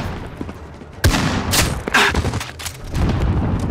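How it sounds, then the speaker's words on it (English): Gunfire in Call of Duty: Modern Warfare, several sharp loud shots and bursts starting around one second, with a crisp crack near 1.5 s and 2 s, against a rumbling battle background. "They're shooting!"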